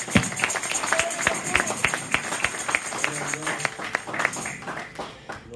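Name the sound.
audience applauding in church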